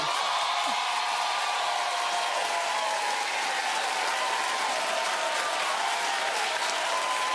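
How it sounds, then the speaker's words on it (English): Studio audience at a daytime talk show claps steadily, a dense, even wash of applause that holds at full strength for the whole stretch with no voices over it. "And you keep clapping."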